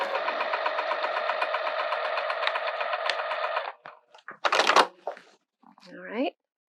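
A sewing machine stitches through quilting vinyl in a steady rapid run for several seconds, then stops; afterwards come a few clicks and handling noises as the needle stays down and the presser foot lifts.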